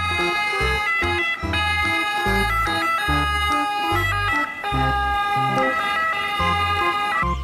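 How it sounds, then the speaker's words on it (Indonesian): A toy ambulance siren wails in a looping electronic pattern, loud and close, with pulsing low beats repeating under the rising and falling tones. "Di sini ada mobil ambulan."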